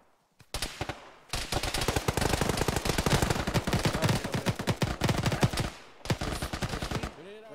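Long rapid automatic gunfire in Arma 3 on the island of Tanoa, close and loud continuous bursts with a brief pause before a final burst.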